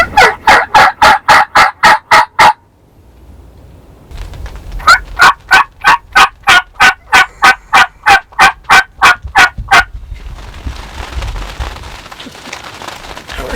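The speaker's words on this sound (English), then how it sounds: "They're gobbling." Wild turkeys in Kansas gobble loudly in rapid repeated bursts, one long run followed by another after a short pause, with quieter rustling and outdoor ambience between.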